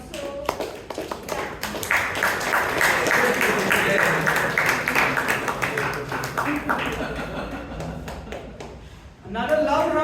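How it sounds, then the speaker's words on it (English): Toastmasters meeting audience in Bangalore gives a young speaker a loud round of applause, dense clapping that swells and then fades, with speech breaking in at the end. "Another loud round of applause for our young speaker."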